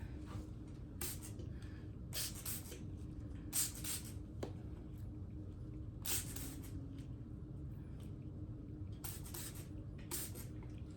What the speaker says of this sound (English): I'm also going to spray in the dirt.